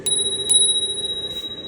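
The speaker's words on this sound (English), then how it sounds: "That's a spur cycle bell." A Spurcycle bicycle bell rings a few times in quick succession, giving bright, close, sustained metallic tones that ring on and slowly fade, with no talking.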